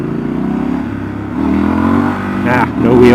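A Triumph 1200 Scrambler with a 1200cc twin engine accelerates, its steady mid-low drone rising in pitch with revving toward the end, close and loud as heard from the rider.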